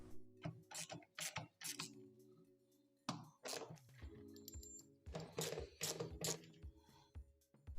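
A screwdriver turns out screws from the front panel of a front-load washing machine, giving close, quiet ratcheting clicks in short bursts separated by pauses, with no one speaking.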